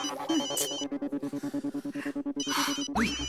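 A phone rings with a repeating electronic ringtone pattern, a steady series of short pulses over a tonal melody, fairly close.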